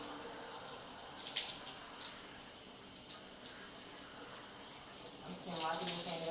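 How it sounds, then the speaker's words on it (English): A tap runs steadily while someone washes their face at a sink, a soft continuous stream with faint splashes of water, heard quietly and close. "And wash your face."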